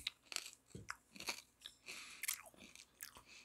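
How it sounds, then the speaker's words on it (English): Hard Mexican candy, spicy, crunched and chewed close to the mouth: a series of sharp, irregular crunches and bites over several seconds, quiet overall with no talk. "I can chew it with my teeth."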